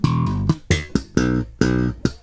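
Bass guitar fill, played alone as a run of sharply plucked, percussive notes in quick uneven rhythm with distinct attacks, close and clear.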